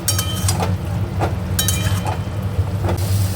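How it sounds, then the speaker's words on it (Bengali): Turmeric, cumin, coriander, chilli and Kashmiri chilli powders frying in a pan, a steady sizzle under repeated sharp clinks and scrapes of a utensil against the pan. "হলুদ জিরের গুঁড়ো ধনের গুঁড়ো লঙ্কার গুঁড়ো আর কাশ্মীরি লঙ্কার গুঁড়ো মশলা দিয়ে ভালো করে কষিয়ে নেব"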